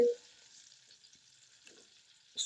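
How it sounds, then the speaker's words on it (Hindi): Onions sizzling in 100 grams of ghee in a wok, a steady soft frying hiss running throughout with a brief stir near the end. "प्याज कढ़ाई में घी डाल लिया 100 ग्राम, इसमें प्याज शामिल कर देंगे"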